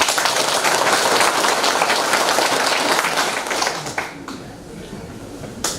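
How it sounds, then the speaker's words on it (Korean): An audience at a farm cooperative head's farewell address gives a round of clapping, dense and loud at first, then thinning out and fading to a few scattered claps near the end. "박수 한번 쳐주십시오."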